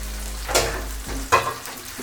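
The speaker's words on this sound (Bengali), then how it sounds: "পেঁয়াজটা রসুনটা ভাজা হয়ে গেছে, এখন আমি শাকগুলো দিয়ে দিব" Taro leaves go into hot oil already holding fried onion and garlic, giving a steady frying sizzle over a low hum with two louder sputtering bursts as they are stirred.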